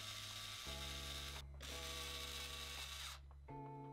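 Powered screwdriver or drill driving screws to secure a PC radiator to the case, a loud, steady whirring that stops and restarts several times, close by.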